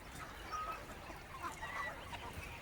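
Free-range country chickens on a village farm cluck and call in the morning, a brief, faint chorus of overlapping bird sounds from a little distance.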